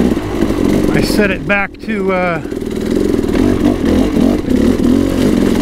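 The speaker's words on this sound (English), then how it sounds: "A little messing around and tuning on the old smart carb." A dirt bike engine revs and idles roughly while its smart carb is tuned, loud and close, with a few throttle blips under someone talking.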